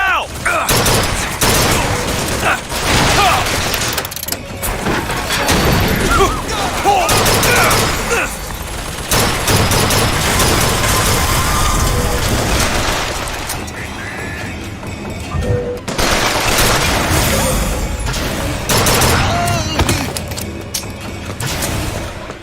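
Turret gunfire roars almost nonstop in BioShock Infinite, a dense, loud stream of shots and mechanical clatter that stays close for the whole stretch, with only short lulls between bursts.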